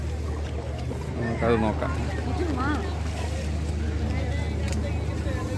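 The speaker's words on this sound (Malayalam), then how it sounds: "അടുത്തൊരു ബോട്ട് വരികയാണ്" A fishing boat's engine runs as a steady low drone at Vizhinjam harbour, mixed with wind and general harbour noise, while someone talks over it and other voices are faintly heard.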